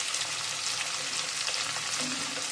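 Chopped onion and garlic fry in a pan with a continuous close sizzle and crackle, stirred now and then, with no voices.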